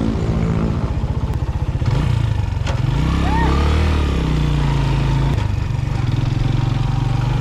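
A motorcycle engine runs close by at a steady idle throughout, with a rough low rumble and a brief mechanical clatter, while a voice speaks over it.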